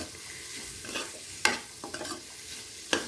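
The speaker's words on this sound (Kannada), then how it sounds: "ಸೊ ಒಂದು 2 ನಿಮಿಷ ಚೆನ್ನಾಗಿ ಫ್ರೈ ಮಾಡಿ," Masala for vermicelli bath frying in a pan while being stirred, a steady sizzle broken by a few sharp scraping clinks of the spoon, close up with no talk.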